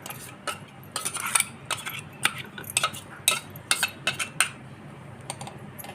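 Dal-rice dhokla batter being stirred in a metal vessel, giving irregular clinks and scraping knocks of a utensil against the pot, fairly close and moderately quiet, with no talk.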